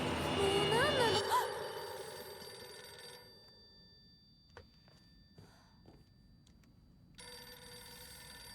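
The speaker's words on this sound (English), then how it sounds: "It's just a phone call. How scary could answering the phone be?" A telephone rings in the horror video game Silent Hill f, a short electronic ring heard loudly at the start and then quickly cut off. Low, dark ambience and faint scattered clicks follow.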